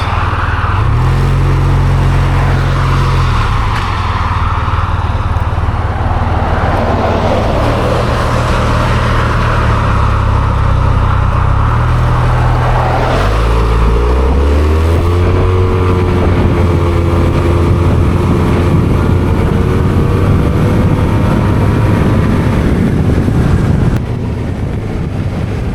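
A Honda Silver Wing 600 scooter riding along, its engine droning steadily and shifting pitch as it speeds up, with heavy wind rush over the microphone throughout and no speech.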